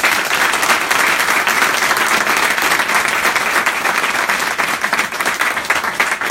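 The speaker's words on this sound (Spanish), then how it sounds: "quiero que le deis un aplauso a la gente que lo ha estado siguiendo en directo" An assembly audience about a housing-eviction cause breaks into loud, sustained applause, many hands clapping together in a dense, steady wash close by with no talk over it.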